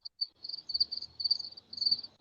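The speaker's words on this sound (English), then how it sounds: "Even the crickets want to know." Crickets chirp in a high, rapid pulsing trill, repeating in bursts against an otherwise quiet night-like background with no talking.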